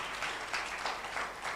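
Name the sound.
audience applause at a workshop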